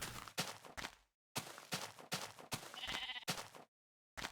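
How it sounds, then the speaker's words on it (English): Sheep bleating in a video game, a series of close, loud bleats in quick succession with short gaps between calls. "Is that a pink sheep?"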